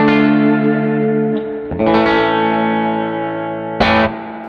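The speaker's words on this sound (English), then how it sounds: "It's all you want in a spring reverb that Fender is known for." A sustained distorted electric guitar chord rings through a Fender Hot Rod amp with lush, splashy spring reverb, changing chords twice with a bright strummed accent near the end.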